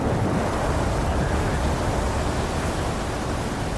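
Water purges with a dense, constant roaring rush in the video game Horizon Forbidden West, loud and unbroken with no talk over it.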